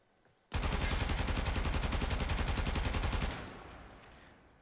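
Rapid, sustained automatic gunfire from the Zenith rifle in the video game Warframe, a dense loud burst of evenly spaced shots lasting about three seconds before cutting off into a fading tail.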